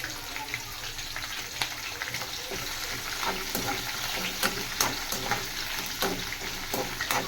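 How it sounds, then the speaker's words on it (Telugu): Onions being tempered in hot oil for green chilli chicken, a steady sizzle with crackles and pops that carries on throughout with no talking over it. "తాలింపు వేస్తున్నాను."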